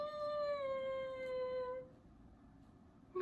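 A dog lets out one long, rising and sustained howl, loud and close in a quiet room, fading out after about two seconds.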